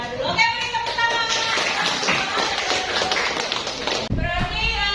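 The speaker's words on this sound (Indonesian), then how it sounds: "Oke, beri tepuk tangan." A class claps during a teacher-training lesson in an Indonesian school classroom. Scattered hand taps sound through voices and chatter that continue across the clip.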